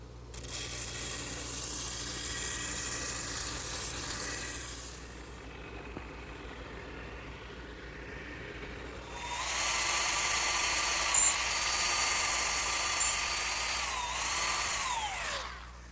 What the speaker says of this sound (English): now to smooth out this angled cut, I'm just going to do it freehand, just up against the drum